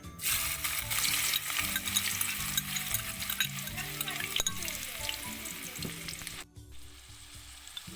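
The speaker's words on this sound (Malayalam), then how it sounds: "എണ്ണ ഓൾറെഡി ചൂടായി കഴിഞ്ഞു ഇനി നമുക്ക് സവോള ഇട്ട് കൊടുക്കാവേ" Sliced onions fry in hot oil with a loud, dense, continuous sizzle and stirring scrapes, and the sizzle drops away abruptly near the end, leaving a quieter hiss.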